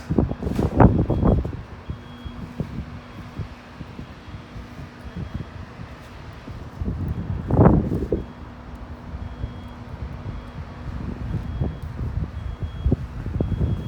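Gusty wind buffets a phone microphone in loud rumbling bursts near large gates, with a faint steady beeping tone in the background.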